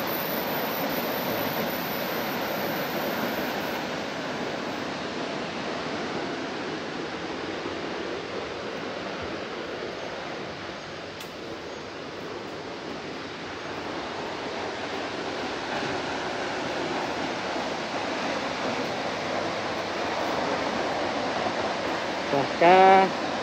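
Tat Fan waterfall near Pakxong pours in a steady, broadband roar that holds evenly from start to finish, with no breaks and no clear voices over the rush of falling water.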